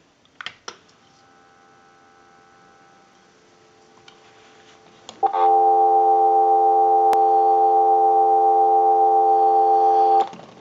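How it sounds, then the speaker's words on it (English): A restored candlestick telephone gives a steady, loud continuous dial tone that starts abruptly after a few faint clicks and holds unbroken for about five seconds before cutting off. "Now what we want to do is go ahead and give you some dial tone."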